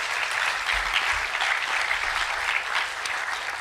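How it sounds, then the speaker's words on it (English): Conference audience giving a patient panel a round of applause: steady, dense clapping from a sizable crowd, even in level from start to finish with no speech over it. "We can give them a round of applause."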